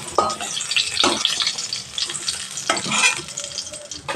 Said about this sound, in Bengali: এই তেলে লোটে মাছটা একটু হালকা করে ভেজে নেব নুন হলুদ দিয়ে